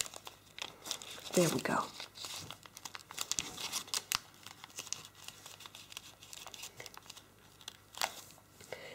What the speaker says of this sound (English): So I'm going to grab the model quite far in the top and then just push that over a little to then add a valley fold there.